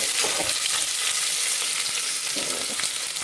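Mutton biryani ingredients fry in a pan with a loud, dense sizzle, close up, with occasional stirring scrapes and pops running through the steady crackle and no talking.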